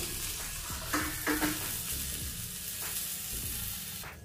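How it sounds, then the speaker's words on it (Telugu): Coconut pieces and green chillies frying in a pan, a continuous crackling sizzle broken by a few stirring scrapes of a spatula, close and alone without talk. "ఇప్పుడు ఇందులో మనం కట్ చేసి పెట్టుకున్న ఈ కొబ్బరి ముక్కలను కూడా వేసి వేయించుకున్నాము."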